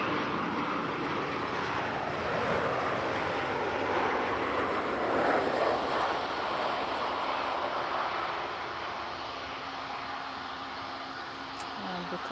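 TAP Air Portugal Embraer airliner, a steady broadband engine roar at moderate distance that holds evenly and eases slightly toward the end, with no talk over it.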